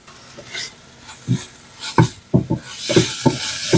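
Burger meat browning in a pan under lowered heat, with tomato sauce just added, gives close scraping and stirring strokes that grow busier over a soft sizzle toward the end.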